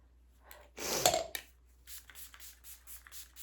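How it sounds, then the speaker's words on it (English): A brief aerosol spray of makeup finishing spray hisses for about half a second, followed by several faint, short puffs in a soft rhythm. "I'm going to spray some finishing spray."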